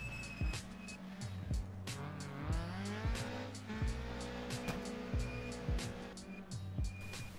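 A Peugeot 208 R2 rally car at a snow and ice rally, its engine revving hard and climbing through repeated gear changes, loud and close for the whole stretch, with no voices.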